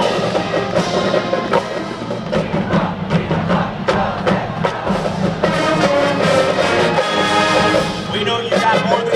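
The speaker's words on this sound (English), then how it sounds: "now it's time to show some of your Zips pride with the cheer" A large crowd of Akron Zips fans chants and cheers at a University of Akron Marching Band family and friends performance, loud and sustained for the whole stretch, with voices blending into a steady roar.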